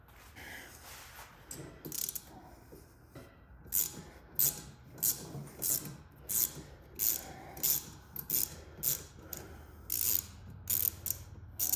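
A ratchet wrench working a bolt loose on a broken air compressor, giving a steady series of short, close clicking pulls that repeat rhythmically and grow more regular toward the end, with no talking.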